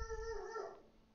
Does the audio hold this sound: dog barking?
yes